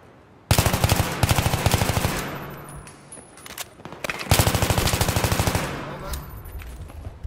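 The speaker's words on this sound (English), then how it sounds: "Hostile machine gunner spotted." Two long bursts of rapid automatic machine-gun fire in the video game Battlefield 3, loud and close, each rattling for a couple of seconds with a short pause between them.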